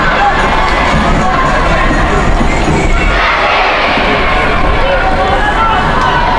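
A large, noisy crowd cheers and roars continuously at a North Mon school football match against Glasheen, loud and close, with a commentator talking over it.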